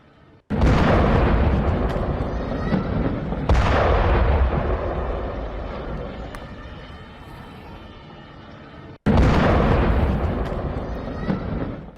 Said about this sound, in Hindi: जोरदार धमाका हुआ, जो तस्वीरों में आप देख रहे हैं बेका घाटी में।